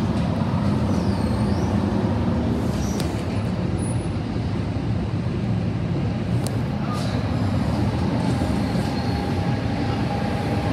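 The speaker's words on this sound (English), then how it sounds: "Last train for the day." A train rumbles steadily past Princeton Junction station, a loud, continuous roar of wheels and cars with faint squeals above it, filling the whole stretch without letup.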